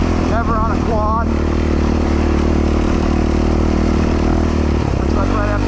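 A quad ATV engine drones steadily on a woodland cross-country motocross track, loud and close with pitch shifts as the rider accelerates, while someone talks over it.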